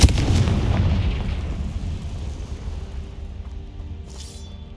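A Confringo spell blast in Hogwarts Legacy lands as one heavy booming explosion at the start, its deep rumble fading away over several seconds, with no voices.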